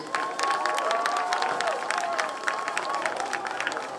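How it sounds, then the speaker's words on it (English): Crowd applause and cheering in the stands at a Somerville High School football game against Chelsea, honoring the seniors, a steady dense roar of claps with shouts and a whistle-like tone running throughout. "one more big round of applause for our Somerville High School seniors"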